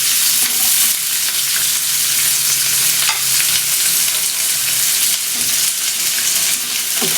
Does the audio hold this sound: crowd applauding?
no